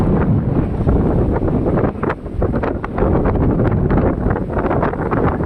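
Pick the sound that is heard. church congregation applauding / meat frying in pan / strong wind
strong wind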